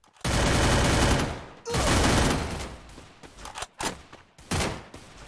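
Rapid bursts of video game gunfire from Free Fire or GTA RP, sustained heavy volleys that break into shorter choppy bursts and single shots, loud and dense with no voices over it.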